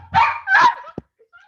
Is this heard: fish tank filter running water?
no